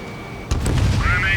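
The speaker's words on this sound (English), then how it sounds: "I've been hit by a missile." A missile strike explosion in Ace Combat 7 bursts suddenly after a steady engine hum, a sharp loud boom followed by rumbling debris and a rising warning tone, with a voice speaking over it.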